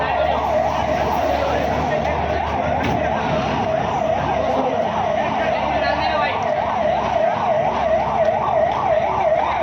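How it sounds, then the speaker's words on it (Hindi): An emergency vehicle siren wails in a fast, repeating rise-and-fall cycle, loud and close, running throughout with street noise beneath and voices talking over it. "भाई थोड़ा सायरन चालू करो, सायरन चालू कर।"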